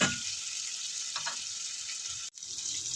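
Tomatoes cook in a pan with a soft, steady sizzle and faint crackle, broken briefly by a sharp click near the end, and no one talks.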